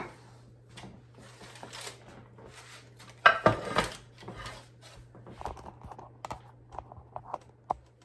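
A 13x9 baking pan being handled in a home kitchen, with scattered light clinks and knocks and one sharper metallic clatter near the middle, over a low steady hum.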